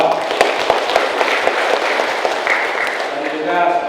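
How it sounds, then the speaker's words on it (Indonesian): Crowd applause at the inauguration of a Catholic church in Empaong, Indonesia, steady clapping with a speaker's voice over it. "Tepuk tangan untuk masyarakat Skadau."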